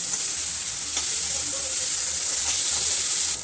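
Turmeric stirred into water hits a hot pan of ginger and green chilli paste for a pabda fish and potato curry, giving a steady, loud sizzle with faint clinks of stirring throughout.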